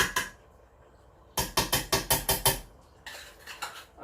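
A spoon scoops tomato puree out of a container, making sharp clinks and taps: a few early knocks, then a quick run of about seven even strikes, then softer scattered clicks.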